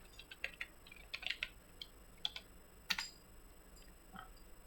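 A command is typed on a computer keyboard: a quiet, irregular run of crisp key clicks in short bursts with brief pauses between them.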